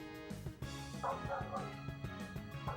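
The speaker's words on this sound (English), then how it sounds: "I hate that dog" Dog barking in the Final Fantasy X video game, a series of close, repeated barks and yips in an irregular rhythm, mixed with game music and other game sounds.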